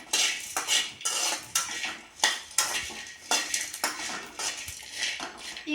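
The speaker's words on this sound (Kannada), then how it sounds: "ಈಗ ಇದಕ್ಕೆ ಬೆಳ್ಳುಳ್ಳಿ ಹೆಸರನ್ನ ಹಾಕಿ ಹುರ್ಕೋಬೇಕು ಚೆನ್ನಾಗಿ." Garlic is fried and stirred in a metal pan while cooking a masala tomato chutney: a brisk run of close, sharp clinks and scrapes from the spoon against the pan at an uneven rhythm, with no talking.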